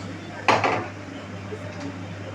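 A spoon clatters sharply against a pan for a moment while stirring whole fennel and cumin seeds in hot oil for a paneer dish. After the brief metallic scrape, only a faint kitchen hum remains.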